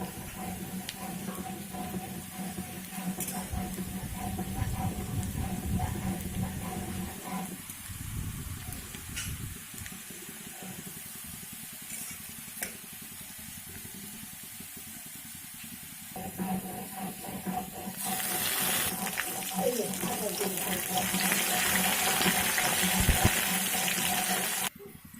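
Crushed garlic tipped into onions frying for khichuri sets off a steady, close hiss of sizzling oil that runs on for long stretches, dropping back for a while and then swelling louder toward the end.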